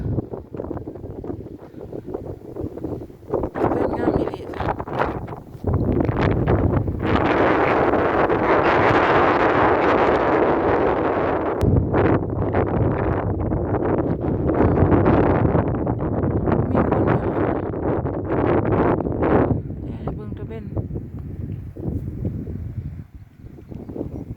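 Cool night wind at the seaside rushes steadily and loudly into the microphone, a broad continuous roar with gusty swells and rumble, and no voices.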